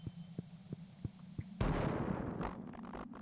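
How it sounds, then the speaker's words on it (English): A bomb in the video game Stardew Valley goes off after a run of soft rhythmic ticking thumps, bursting into a loud, booming explosion that decays into rumbling debris. "Drop the bomb here."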